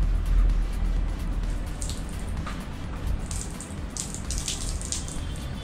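Water pours steadily over a waterproof fingerprint-access disk lock for a motorbike, a continuous close splashing and trickling rush that lasts throughout with no voices.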